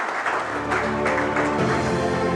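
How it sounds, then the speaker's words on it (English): Loud, dense applause from an audience at an art awards ceremony, a steady wash of clapping that swells slightly and holds throughout, with a faint voice briefly audible underneath. "Big round of applause."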